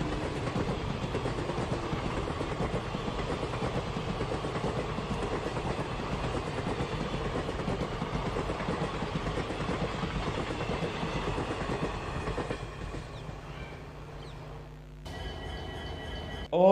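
An Indian Railways locomotive train running, heard as a played recording: a steady rumbling, rattling roll that holds for most of the stretch, then fades and gives way to a brief different sound at the end.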